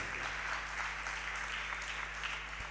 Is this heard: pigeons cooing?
no